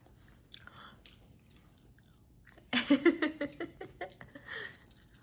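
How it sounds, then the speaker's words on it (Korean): An 18-month-old toddler chews seaweed (gim) at the table, quiet at first, then a run of wet, crunchy bites and smacking close to the mic, with a little giggling mixed in. "오우 잘 먹네 입에 김"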